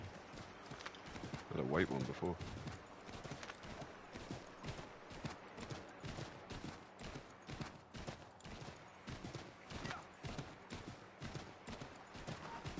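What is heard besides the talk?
horse hooves clip-clopping in video game Assassin's Creed 3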